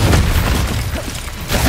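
A Bombarda spell explodes in Hogwarts Legacy: a loud, deep boom with heavy low-end rumble, fading slightly mid-burst and swelling again at the end, with no voices over it.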